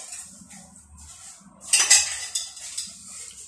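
Moist vermicelli cake being cut on a plate: quiet at first, then a knife or fork clinks and scrapes against the plate, with a couple of follow-up clinks.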